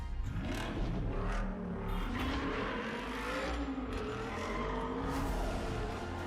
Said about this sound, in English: They do better car sounds than Test Drive.